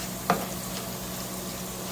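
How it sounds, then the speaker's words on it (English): Homemade French fries cut from russet potato, cooked with white onion in olive oil in a Curtis Stone frying pan, sizzle steadily and alone, with a brief clack of stirring near the start. "I'm making some homemade French fries over here. It's just in my Curtis Stone frying pan."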